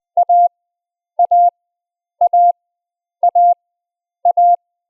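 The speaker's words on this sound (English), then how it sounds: "listening to just the sound of alpha" Morse code letter A sent as a clean steady tone at about 20 words per minute, short dot then longer dash, repeated five times with wide even gaps between each letter, alone and clear.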